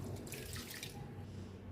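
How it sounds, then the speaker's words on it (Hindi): Green chana pulao rice being washed by hand in water, a steady close sloshing and splashing of grains and water throughout, with no talking. "इसे बिल्कुल अच्छे तरीके से वॉश करते रहना है जब तक कि बिल्कुल इसका पानी साफ़ ना हो जाए"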